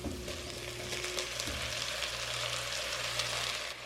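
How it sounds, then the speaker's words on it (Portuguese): Crushed garlic fries in a hot pan while being stirred, giving a soft continuous sizzle with scraping spoon strokes and a low hum underneath, close and quiet. "Agora eu vou colocar o alho amassado e misturar os ingredientes."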